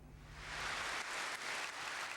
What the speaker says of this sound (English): a eulogy should prompt a weeping nation to break into spontaneous applause